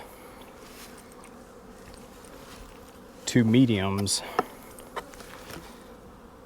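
Honey bees hum in a steady low buzz from an opened winter hive with medium boxes and fondant, heard close under a man's brief speech.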